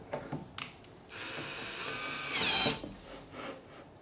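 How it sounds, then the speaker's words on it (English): Ryobi cordless drill running briefly while setting up a grain mill, a whining motor burst of about a second and a half after a few small clicks and taps, fairly quiet. "I've just got my little Ryobi drill and we'll see how close I can get."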